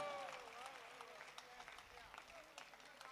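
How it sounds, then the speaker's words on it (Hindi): Audience applause at a Hindi poetry recital by a poet, a faint, steady patter of clapping from a crowd running throughout, with a voice speaking over it at the start. "केवल एक ही तरीका है, ताली बजाओ बस।"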